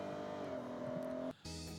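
A 2020 Toyota GR Supra engine hums steadily in Forza Horizon, holding a pitch through a bend before cutting out briefly on a shift and resuming at a higher note.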